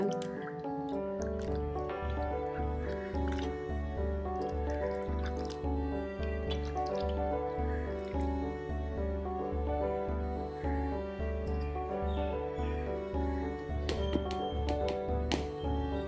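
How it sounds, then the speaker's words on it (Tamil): A tomato is mashed by hand into tamarind water for a mackerel fish curry, making steady wet squishing and sloshing sounds close up with a repeating rhythm and no talking. "இந்த புளிக்கரைசலில் நம்ம எடுத்து வச்சுருந்த ஒரு தக்காளியை நல்லா கரைச்சி விட்டுக்கலாங்க."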